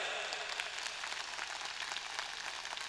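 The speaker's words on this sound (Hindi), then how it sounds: "ताली बजा" Audience clapping at a live Rajasthani comedy and folk-talk stage event, a steady dense patter of many hands filling the whole stretch at moderate distance, with no voice rising above it.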